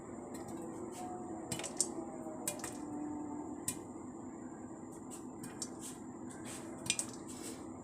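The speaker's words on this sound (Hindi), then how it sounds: "ये देखें पॉपकॉर्न जो कि वो बनने स्टार्ट हो गए हैं।" Popcorn pops in a pan with oil and salt, scattered sharp pops and metallic ticks over a steady low sizzle, irregularly spaced and fairly faint, with no talking.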